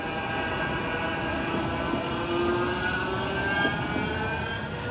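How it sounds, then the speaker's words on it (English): A Manchester Metrolink tram on the Bury line pulls away from a stop, a steady low rumble with rising electric motor whine and faint high squeals, close by and continuous without talk. "you'll see what I mean in a sec when this tram to Bury departs"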